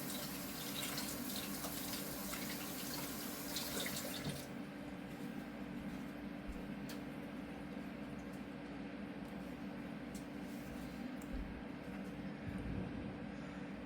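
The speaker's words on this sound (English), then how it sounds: "I'm gonna wash my hands." Tap water runs into a kitchen sink while hands are washed during home baking of apple cider oatmeal cookies, a steady close rush that starts stronger and splashier for the first few seconds, then continues as a softer even flow.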